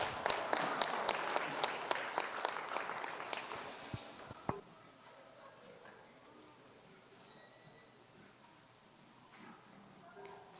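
Audience applause rings out for the lightweight market goat first-place winner at a county 4-H show, a loud burst of dense clapping for about four seconds that cuts off and leaves faint room noise.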